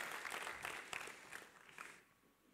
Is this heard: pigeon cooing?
no